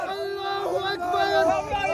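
A protest crowd in Kashmir chants slogans, with several voices rising and falling together in a close, sustained chant.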